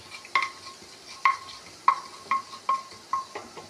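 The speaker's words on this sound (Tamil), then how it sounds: "அடுத்து ஜீரகத்தை போட்டு ஒரு கிண்டு கிண்ட வேண்டும்" Cumin seeds stirred in a frying pan while cooking pongal, giving about seven distinct scraping stirs at a steady pace over a soft sizzle, close and moderately loud with no talking.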